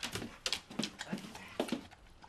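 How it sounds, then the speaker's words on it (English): A dog whimpers and whines in a string of short, uneven cries that rise and fall, fairly close and with no talking over it. "That dog's got to go."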